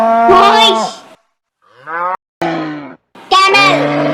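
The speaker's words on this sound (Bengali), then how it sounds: "বাফেলো, মহিষ," Deep lowing calls from a buffalo come in several bursts, a long loud moo first, then shorter calls separated by brief silences, and a final strong moo, all up close.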